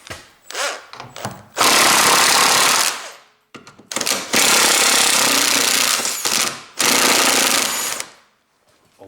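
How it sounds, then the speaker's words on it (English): An electric impact driver hammers loose steering rack bolts on a Toyota Corolla, firing in three long, loud, rattling bursts separated by brief pauses and short clicks, with no voices. "I can use my electric impact driver and take these bolts away"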